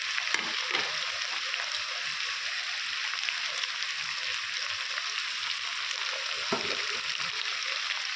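Chicken pieces fry in a pan with lightly browned onions, giving a steady, close sizzle that runs evenly throughout with no talking.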